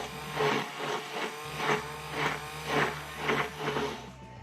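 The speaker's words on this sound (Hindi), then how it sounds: "अब हम इसमें ऐड कर देंगे 2 ग्लास दूध, और इसे हम ब्लेंड कर लेंगे ब्लेंडर से" A kitchen blender whirs steadily, mixing thandai syrup with two glasses of milk, its motor hum pulsing in a regular rhythm across the clip, close and fairly loud with no talking.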